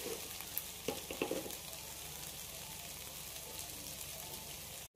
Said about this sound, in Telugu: మధ్య మధ్యలో ఇలా కలుపుతూ ఉండాలి, కింద అడుగు అంటకుండా